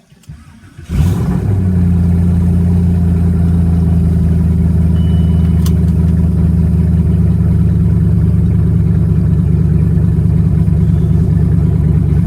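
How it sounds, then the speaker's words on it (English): A twin-turbo Range Rover Sport with an LS engine swap roars up after a second of quiet, then holds a loud, steady, deep exhaust drone at close range for the rest of the stretch. "I'm just gonna do a pass down the road so you can hear it."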